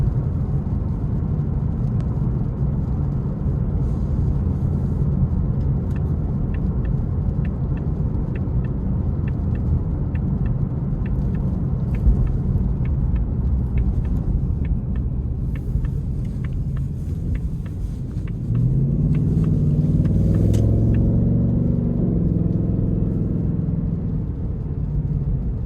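A 2026 Ford Mustang GT driving in normal mode gives a steady, low engine rumble from inside the cabin, swelling into a deeper, louder drone near the end as the car accelerates.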